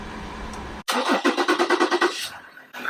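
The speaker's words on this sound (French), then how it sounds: "va démarrer la voiture là" A diesel car engine being started after a fuel filter change with air bubbles in the diesel: a sudden burst of rhythmic cranking pulses, about a dozen quick beats, then tailing off, close and moderately loud.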